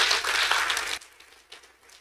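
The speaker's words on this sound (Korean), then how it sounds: "박수 한번 쳐줍시다" A lecture audience at a humanities talk gives a short round of applause, a brief burst of clapping that stops after about a second, followed by faint scattered noise.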